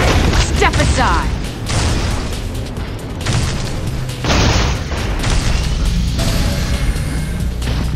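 Heavy weapons fire and explosions boom loudly and continuously in Unreal Tournament 3 Warfare on the Islander map, with dense blasts, crashes and mechanical clatter throughout, while game voices call out over the action.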